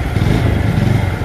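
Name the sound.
TVS Apache RTR 4V motorcycle engine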